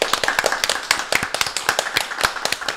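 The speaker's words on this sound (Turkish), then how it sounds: "Ona müthiş bir moral alkışı sıcak sıcak." A small studio audience claps for a podcast guest at the close of a recording, giving a few seconds of sparse, uneven hand claps, fairly soft and close.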